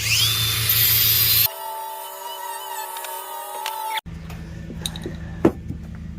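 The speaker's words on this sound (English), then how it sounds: "I'm really just chamfering the edges with this." Tool chamfering the hard, sharp edges and corners of wooden shelf boards: a loud, close whine for the first second and a half, then a quieter steady tonal hum with faint scrapes, ending in a few brief knocks.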